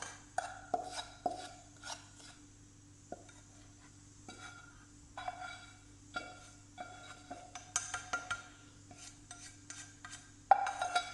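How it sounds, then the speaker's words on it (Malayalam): Roasted wheat flour being stirred into mashed banana in a bowl, soft intermittent scraping and tapping of a spoon against the vessel with pauses between strokes, quiet and close. "ഇപ്പോൾ ഈ പഴം ഉടച്ച് വെച്ചതിലേക്ക് ഈ വറുത്ത ഗോതമ്പ് പൊടി ഇട്ട് കൊടുക്കുക"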